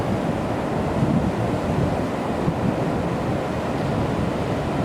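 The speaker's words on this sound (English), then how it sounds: "You can see some seagulls going, and the waves are splashing" Atlantic Ocean waves splashing at night at Marineland, Florida, a steady broadband wash of surf with wind rumble, continuous and close, with no voices.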